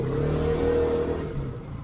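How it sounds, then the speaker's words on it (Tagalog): A motorcycle engine with a faulty exhaust runs close by with a steady, buzzing drone that sounds slightly off, holding level for about two seconds before easing a little toward the end. "Paayos ko muna yung tambutso nitong motor kasi iba yung tunog"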